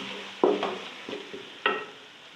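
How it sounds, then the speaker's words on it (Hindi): Masala with crushed red chili fries in a pan for an aloo matar gajar pulao, a soft steady sizzle with a few sharp stirring knocks near the start and end. "मसाला अच्छी तरह भून रहा है, और कुटी हुई लाल मिर्च और भून लूँगी मैं"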